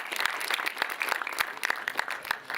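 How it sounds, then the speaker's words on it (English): A live audience at a performance marketing masterclass applauds the panelists with a dense, steady round of clapping that holds at moderate loudness for the whole stretch. "Big round of applause."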